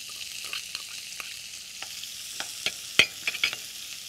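Gentle sizzling of onions in a pan, with a series of scraping stir strokes and occasional sharper crackles, no voices.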